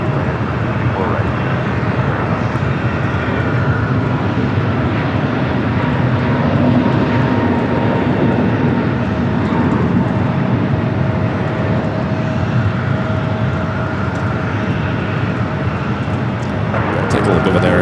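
An Alaska Airlines jet inbound from San Francisco lands on runway 24 right at LAX, a steady loud broadband roar of engines and airflow that persists throughout, with a rise near the end.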